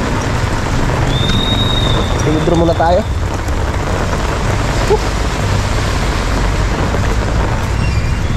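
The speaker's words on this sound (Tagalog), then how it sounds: "Grabing lakas ng ulan." Heavy downpour drums loudly and continuously on a surface, a dense roar of rain that fills the whole clip, with people talking briefly under it.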